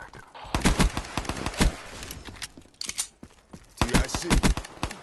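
Repeated M1911 pistol shots in Black Ops zombies gameplay, sharp single reports in quick uneven clusters, loud and close with brief gaps between volleys.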